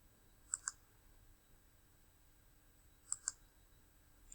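Computer mouse clicks come in two quick double-click pairs a few seconds apart, crisp and close against a very quiet background.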